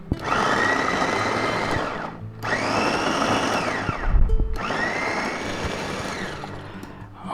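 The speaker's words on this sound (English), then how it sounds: "we'll go ahead and take our motor and use our Savio and chop them up" A Savio motorized food chopper runs in three loud bursts, chopping onions and celery, with a whirring motor pitch that rises and falls across each pulse and short pauses between them.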